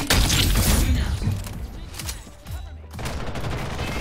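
Grenade blast and gunfire in the Ghost in the Shell video game: a loud burst of explosive crackle and rapid shots at the start, then further booming bursts and clatter.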